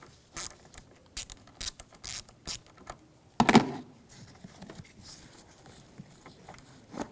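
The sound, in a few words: ratchet with 10mm socket loosening a car battery terminal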